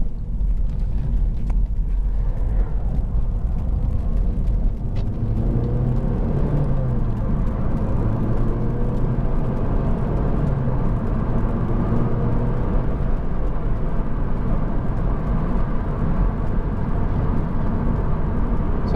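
A 2.0-litre Mazda MX-5 Sport cruising at the legal speed limit, heard from inside as a steady, subdued low rumble of engine and road noise with no talking.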